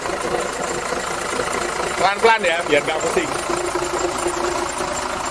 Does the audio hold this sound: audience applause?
no